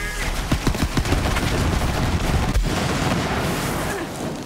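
Heavy gunners unleash dense, continuous gunfire in Borderlands 3, rapid loud bursts and booming impacts packed tightly together with a sharp blast partway through.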